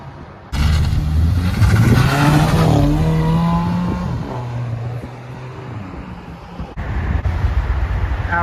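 A Toyota Avalon TRD pulls away from a cars-and-coffee meet, its engine revving hard and rising in pitch as it accelerates past close by, then fading, with another vehicle's engine swelling in near the end.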